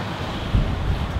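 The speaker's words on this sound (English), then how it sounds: "It's a good thing that the wind's picked up and we're moving along quite quickly." Wind rushing over the microphone while a sailboat heads toward Fiji's Astrolabe Reef, with a broad steady roar and a low surge of waves against the hull midway.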